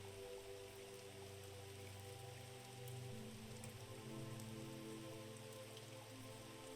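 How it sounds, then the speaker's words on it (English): Steady rain falls on a hard surface, a dense, even patter of drops that holds constant throughout with a low, soft hum beneath it and no voices. "She can hear the sound of that rain."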